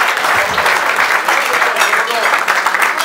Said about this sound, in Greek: Χειροκρότημα στο Θωμά, μπράβο!